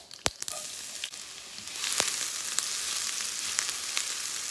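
Hot oil spluttering inside a covered pan while cooking upma, opening with a couple of sharp pops and clicks, then building into a steady loud hiss of sizzling with scattered crackles, close by, no speech.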